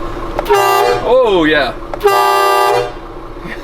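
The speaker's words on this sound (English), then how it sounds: "I hoot the air horn." A Scania truck sounds its horns in two close blasts, one from the regular horn and one from the air horn, each lasting under a second. A voice is heard briefly between them.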